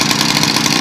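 A Yamaha PW50 dirt bike engine runs steadily with a loud, dense, buzzy drone close by, a small two-stroke idling evenly throughout with no talking.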